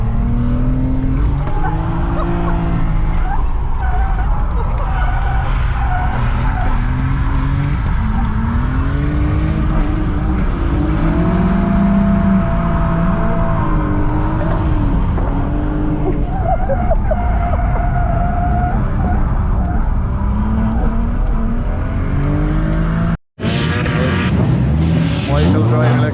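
A BMW E92 drift car holds a continuous loud engine roar with rising and falling revs for over twenty seconds, a sharp cutout near the end before the noise returns.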